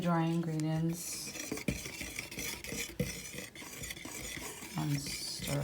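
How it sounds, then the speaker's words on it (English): Flour, cinnamon, baking soda and salt are stirred in a bowl for oatmeal raisin cookie dough, with rhythmic scraping and light clinks of the utensil, close, while a voice briefly hums or speaks at the start and end. "I have my flour here, my cinnamon, my baking soda, and my salt, and I'm gonna stir it."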